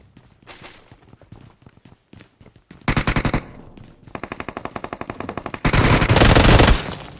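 Video game gunfire, rapid automatic bursts in loud repeated volleys, starting with scattered single shots and building to dense sustained fire near the end.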